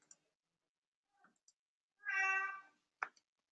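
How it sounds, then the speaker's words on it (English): A single clear, close cat meow lasting about half a second, surrounded by quiet with a few faint clicks before and after. "I hear a cat instead, not crickets."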